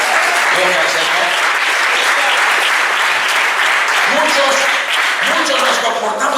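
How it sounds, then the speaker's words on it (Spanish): Loud, sustained applause from a church congregation fills the space, with voices calling out over the clapping. "Denle un aplauso al Señor, hombre."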